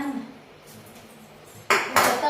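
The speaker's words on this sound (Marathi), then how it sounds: "तवा आणला तवा" An iron tawa griddle for making chapati is brought over and set down, giving two sharp metallic clanks near the end after a quiet stretch with a faint murmur.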